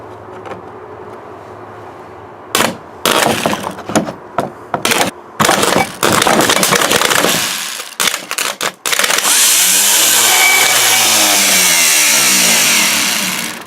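Starter motor from a 1967 Ford Galaxie 500, hooked up to a battery on a bench, bursts into loud, close whirring spins in several short stop-start runs, then one long continuous spin that gradually winds down.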